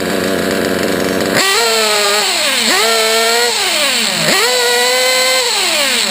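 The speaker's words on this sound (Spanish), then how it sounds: "el motor va muy fino arriba" RC model nitro engine screams at high revs after carburetor adjustment, a loud, shrill whine that rises in pitch in repeated revving sweeps, running close and alone.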